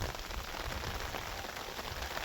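Steady rain falls on farmland after a night of downpour, an even, continuous hiss of drops on surfaces with no breaks and no voices.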